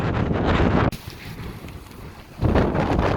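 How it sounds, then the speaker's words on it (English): Strong wind battering the microphone on the knife-edge CMD Arête ridge near Ben Nevis in rough weather: loud roaring gusts, a brief lull of softer rushing air, then another hard gust. "Knife edge ridge, strong wind, quite a long way to go."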